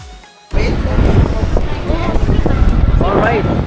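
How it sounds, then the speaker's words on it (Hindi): Wind blowing outdoors on a warm day in Cancun, Mexico: a steady broadband rush that starts abruptly and keeps up, with voices talking underneath. "बहुत बढ़िया हवा चल रही है और एकदम गर्म हो रहा है यहाँ पर"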